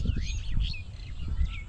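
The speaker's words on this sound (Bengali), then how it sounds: "খুব সুন্দর পাখি ডাকছে চারিদিকে" Several small birds chirp and whistle around a Bangladeshi village on a spring morning, short bright calls overlapping close by over a steady low rumble of background noise.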